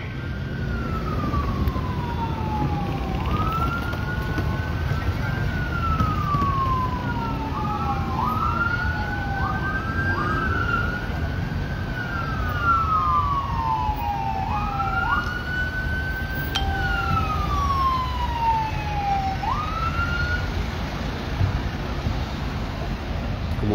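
Sirens from state police patrol cars arriving on a boulevard in Tuxpan, Veracruz, wailing in rising and falling sweeps that overlap from more than one vehicle, loud and steady over constant street traffic noise.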